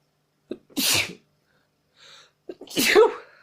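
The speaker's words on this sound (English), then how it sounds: "I thought I was going to sneeze then." A sharp sneeze bursts out after a quick inhale, followed by a faint pause and a second, louder sneeze close to the listener.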